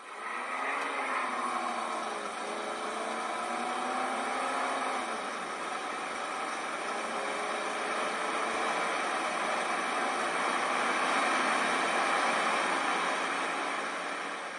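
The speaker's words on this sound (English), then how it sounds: "Here's a short little acceleration video to give you a sense of the overall power that these had, especially when backed by the four-speed automatic" A 1961 Cadillac with a 390 V8 and four-speed Hydra-Matic automatic accelerating hard, heard as a steady loud roar with a rising tone early on, suggesting a gear change, then a sustained drone.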